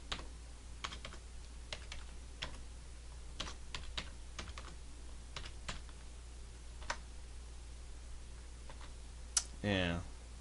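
Scattered keystrokes as a new Windows password is typed on a computer keyboard, a dozen or so separate clicks with pauses between them, close and fairly quiet, ending in a brief louder burst.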